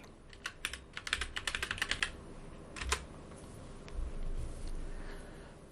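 A password is typed on a computer keyboard during a software install: a quick burst of close key clicks, a short pause, then a few more keystrokes, with no speech.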